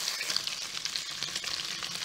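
Pork pan frying, a steady crackling sizzle with bursts of spitting fat at close range, no voices.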